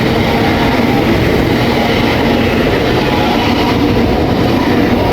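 Avanti Class 805 train, unit 805-011 on a Chester to London Euston service, passing through Milton Keynes Central station with a loud, continuous rushing roar of wheels and rail noise close by.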